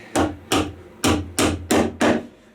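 Six sharp hammer blows drive nails into wooden furniture feet, struck close and loud at a quick, slightly uneven pace.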